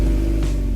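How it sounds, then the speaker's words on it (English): A 2017 Buick Envision's turbocharged 2-liter four-cylinder engine drones at a low, steady pitch, loud and close, with a smooth, even hum. "and a soft engine note"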